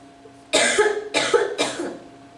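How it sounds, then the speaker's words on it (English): Three harsh coughs in quick succession from a teacher in a chemistry classroom while erasing the board, fairly loud and close, each a broad burst with a short gap between. "I'm going to erase while coughing"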